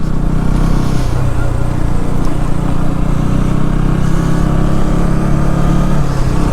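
A KTM Duke 390 motorcycle rides through Kolkata at night, with a constant loud engine drone and wind rush close to the rider throughout.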